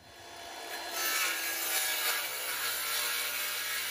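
A hand saw cuts through a piece of lumber, giving a steady broadband rasping that grows louder after the first second and keeps a close, even rhythm of strokes.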